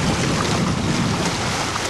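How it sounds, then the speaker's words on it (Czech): A boat cuts through waves, with steady broadband wash and rushing wind noise on the microphone held constant and fairly loud throughout, no voices. "Jak si krásně loď prořezává vlny."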